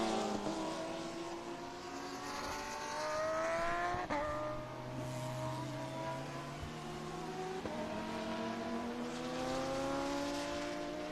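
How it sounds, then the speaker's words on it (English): An Audi R8 race car drives past on a road racing circuit, its engine note rising and falling through gear changes as it passes and then fades, loud and steady throughout, with another car audible in the background. "his father follows him right behind in the Audi R8"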